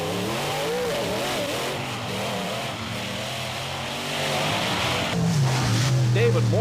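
Monster trucks race side by side on a beach, their engines roaring and revving hard while surf washes in the background and an announcer talks over the action.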